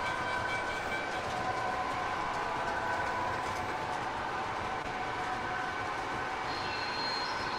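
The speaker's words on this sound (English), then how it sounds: "Tom, it's a MTH GP30 with Proto Sound 2. With the Rail Sounds boxcar" An MTH GP30 model train locomotive with Proto Sound 2 runs with a Rail Sounds boxcar, giving a steady, faint, close diesel rumble and rolling clatter, with no talk.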